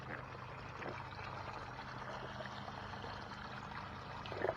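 Water streams and trickles steadily out of a MaxClip while it is being cleaned of grease and grime, a continuous moderate pour with no pauses.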